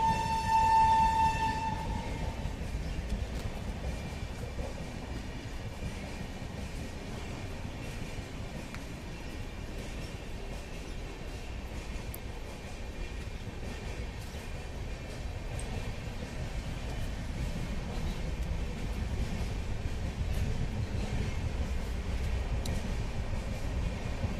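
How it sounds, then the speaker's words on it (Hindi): A passing train rumbles steadily by in an open outdoor spot, its horn sounding briefly at the start before a long, even rolling noise of the cars carries on to the end. "ट्रेन देख लिए, चलो"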